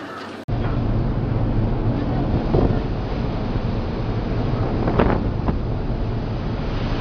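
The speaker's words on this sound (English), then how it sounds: "On board the ship MS Expedition, Force 12 on the Beaufort scale, from the Antarctic Peninsula to South America." Force 12 storm winds buffet the ship MS Expedition between the Antarctic Peninsula and South America, a loud, constant roar of wind and rushing sea after a short opening cut, with occasional sharper gusts or slaps.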